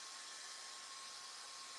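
A hair dryer blows out a beard during a grooming routine, a steady, even whooshing roar of airflow that holds constant throughout at a moderate level, with no talking.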